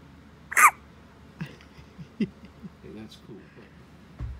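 A baby hiccups softly in a quiet room, one sharp hiccup followed by a few fainter ones at uneven intervals, with hushed adult murmuring.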